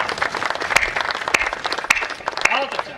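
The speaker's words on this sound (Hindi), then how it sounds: "अब तालियां होनी चाहिए, बहुत बढ़िया है, वाह।" An audience at a live Hindi comedy show applauds. There are a few sharp, distinct claps over a general patter, and a voice speaks over it.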